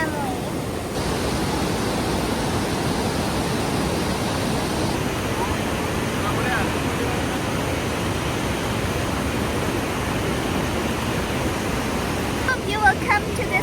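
The Chutes du Moulin waterfall pours with a constant, even rushing roar that stays steady from start to finish, and faint voices may surface briefly under it.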